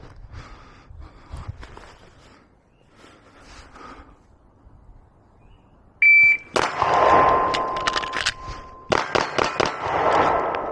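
A Glock 19 Gen 5 pistol fires on a range after a sharp shot-timer beep, a string of loud, close shots in quick succession followed by a second burst, with quiet talk beforehand.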